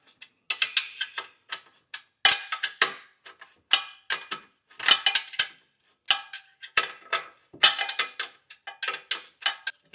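Ratchet wrench snugging exhaust flange bolts on an 80 Series Land Cruiser during a catalytic converter replacement, heard as close, rapid bursts of crisp metallic clicking in uneven runs with short pauses between strokes.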